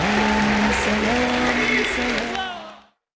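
Audience applause welcoming a speaker at a lecture event in Karachi, a dense, steady wash of clapping that holds loud and even, then fades out over the last half second.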